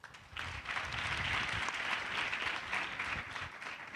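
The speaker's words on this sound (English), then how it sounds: "Round of applause." Audience applause at an event hall, faint but steady crowd clapping swelling in after a short pause and fading slightly toward the end.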